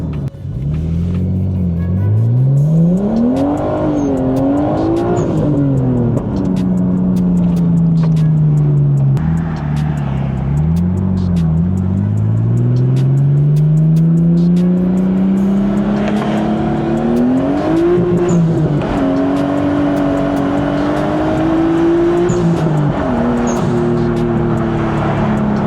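Nissan Skyline R34 GTT engine revving and pulling hard while being driven and slid in second gear, loud close rumble rising and falling in repeated surges for about twenty-five seconds with no talk.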